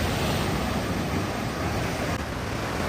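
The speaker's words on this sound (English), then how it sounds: "you're greeted by towering sandstone cliffs, natural arches, and waves crashing with such force that you can feel it in your chest" Waves crash against towering sandstone cliffs and natural arches at Tunnel Beach, Dunedin, a steady broadband roar of surf with wind rushing across the microphone and no break in the sound.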